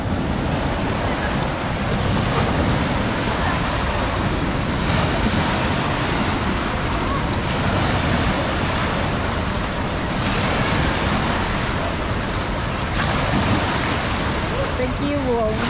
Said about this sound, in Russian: Такие волны.